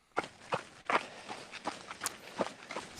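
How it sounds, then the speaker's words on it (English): Footsteps of ultramarathon runners on a trail, a run of distinct, uneven crunching steps heard close and alone. "sometimes it's just cool to hear the footsteps of the runners as they're heading on the trail"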